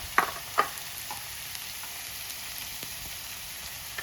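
Curry leaves with crushed ginger and garlic fry in hot oil: a steady close sizzle and hiss with two sharp crackles at the start, and no voices.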